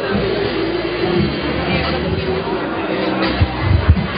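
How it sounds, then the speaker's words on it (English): Dense crowd chatter fills a large hall at a men's bouldering World Cup final in Vienna, a steady murmur of many voices with a few low thumps near the end, heard under a nearby speaking voice. "So here's the crowd for you as well."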